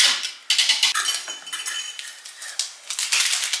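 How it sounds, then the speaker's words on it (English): A whisk stirring sugar into milk in a bowl, rapid bright metallic clinking and scraping strokes in quick uneven bursts, close and fairly loud, with no voices. "I've got a whisk here. We're going to go ahead and mix that up real quick."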